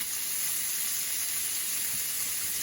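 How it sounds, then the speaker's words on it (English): Pork ribs searing in a pan, a quiet, even sizzling hiss with no talk. "once you add your meat, make sure you sear it on all 4 sides"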